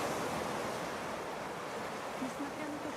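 Ocean surf washes in a continuous broadband roar, steady and fairly quiet with no breaks, heard alone without speech.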